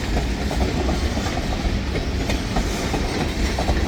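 A freight train with gondolas and tank cars rolls along the rails at Pembine, a loud, steady rumble with rhythmic clickety-clack from the wheels passing close by.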